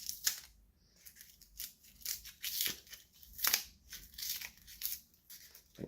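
A piece of model railway track is cut at an angle during track laying, with a series of close, crisp snipping and crunching cuts in irregular bursts, fairly quiet.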